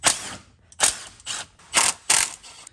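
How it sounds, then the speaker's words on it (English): A hand ratchet works on the transmission pan bolts of a Ford Mustang, giving five short, crisp bursts of rapid clicking at close range with quiet gaps between strokes and no talk. "You would do that by removing every single bolt except for the back two in the center."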